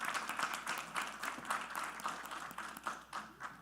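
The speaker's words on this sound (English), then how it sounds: "Can we give her another round of applause?" Applause for someone speaker at a community home ownership resource fair, a steady patter of clapping from a modest crowd that fills the clip at moderate level without pause.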